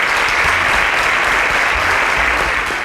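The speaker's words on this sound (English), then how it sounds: "A round of applause for him." A crowd applauds steadily, dense clapping filling the room at a constant loud level throughout, with no voices standing out.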